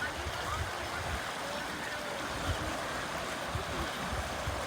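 Rainwater after a downpour in Botad rushes steadily along in a strong flow, a faint, even wash of water with no clear breaks.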